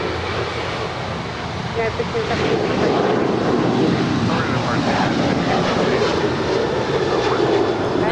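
A United Airlines jet takes off at LAX bound for Chicago O'Hare, its engines building into a loud, broad, steady roar that holds for several seconds, with radio chatter and a voice heard faintly underneath.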